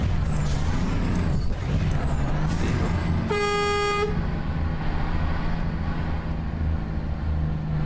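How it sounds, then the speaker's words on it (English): A single short, bright truck horn toot of about a second, not an air horn, rises over a steady low engine rumble in a modded truck-driving video game, with road noise continuing afterward. "Wonder if anybody heard our horn or not."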